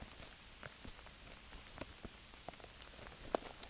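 Raindrops falling outdoors during Hurricane Irene, a steady patter of scattered drops with a few sharper nearby hits, faint and continuous with no voices.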